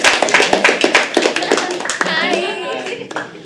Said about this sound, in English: Everyone together. Clap.